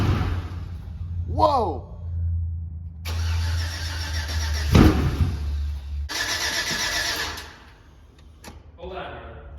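A Chevrolet Silverado 5.3 V8 with a TSP Chopacabra cam cranks and fires on its first start, settling into a loud, choppy idle with throaty rumble; a man exclaims and others talk over the engine.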